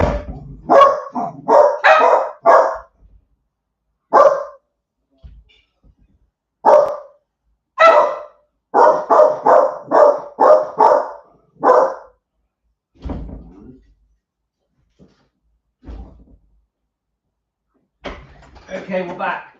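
Several dogs barking excitedly at a delivery arriving at the door, loud and close, in repeated bursts of sharp barks separated by short silences, with a few softer yips and a door sound toward the end.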